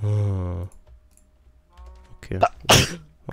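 A single sharp sneeze opens the clip, followed by a short pause and then brief speech and a few soft clicks.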